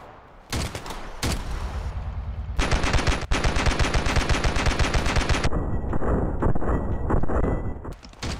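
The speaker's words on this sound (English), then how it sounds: "I'm getting a machine gun." Machine gun fire in the Ravenfield video game, loud rapid sustained bursts after a few single shots, continuing for several seconds with a dense rattling rhythm.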